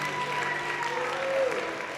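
Audience applauding for Burlington City Arts, a steady wash of clapping at moderate volume with a faint tone drifting beneath it.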